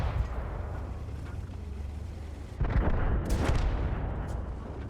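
Tank guns fire in a video game battle involving German tanks, a KPZ and an SU, with heavy booming shots and a loud blast midway over a rumbling battlefield background, with no talking.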